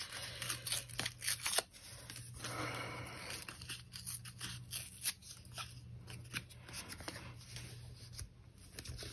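Scissors cut paper for a bullet journal in a series of quiet, irregular snips and rustles close by, with soft handling sounds between the cuts.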